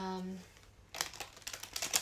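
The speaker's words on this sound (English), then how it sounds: "let us turn to the cards. I'm going to shuffle" Tarot cards being shuffled in an evening astrology reading, a quick burst of crisp riffling snaps starting after a brief spoken lead-in, close and fairly quiet.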